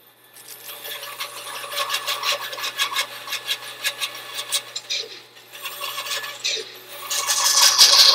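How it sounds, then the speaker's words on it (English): Sanding board rubbed back and forth on wood while blocking a mast step on an International 2.4mR sailboat, a rhythmic rasping scrape in repeated strokes, close and fairly loud with no talk. "So I'm using our sanding board here to give"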